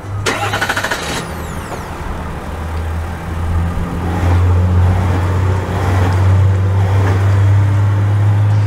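A 2024 GMC Sierra 1500 Denali Duramax diesel pickup truck drives off: a brief high whine and a clunk, then the engine hum builds louder and steadier as it pulls away, with no voices.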